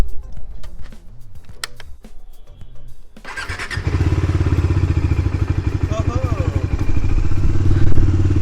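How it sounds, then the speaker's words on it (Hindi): A Bajaj Dominar 400 BS6 motorcycle that has been standing unused for days cranks and fires up on the first try, then settles into a loud, steady near idle after a few seconds of quieter mechanical noise. "तो देखा आपने, बाइक एक बार में स्टार्ट हो गई, एक बार में।"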